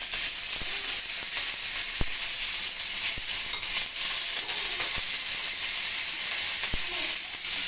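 Green chillies and curry leaves sizzle in hot oil, giving a loud, steady frying hiss throughout, broken by a few sharp clicks and taps of a spoon against the pan.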